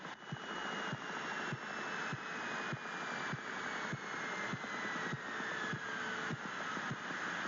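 Light aircraft engine idling in New Zealand during pre-landing checks, a steady loud drone with faint regular ticks and a slowly sliding whine.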